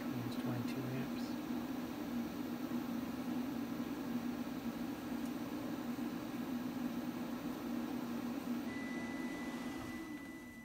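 A running microwave oven makes a steady appliance hum with a constant low drone throughout, fading slightly at the very end as it quits.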